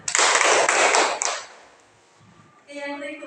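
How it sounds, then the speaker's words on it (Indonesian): A classroom of students claps together for a classmate during a micro-teaching lesson, a dense burst of hand claps that fades out within about a second and a half, followed by quiet and then speech. "tepuk tangan untuk teman kita Wulan"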